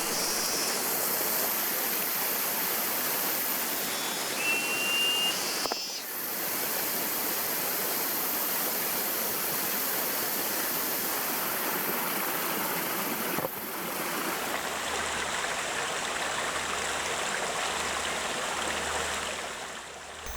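Fast-flowing river current where bamboo or rattan fish traps are set, a steady broadband rush of water filling the whole stretch, loud and continuous with no voices.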